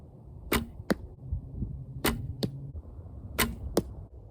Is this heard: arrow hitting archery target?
yes